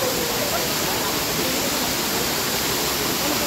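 Bukal Falls in Liliw pours with a dense, unbroken roar of rushing water, loud and close, steady throughout with no pauses.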